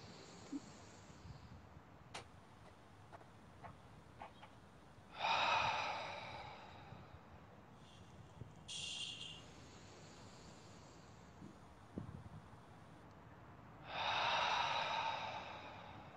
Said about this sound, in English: And inhale again.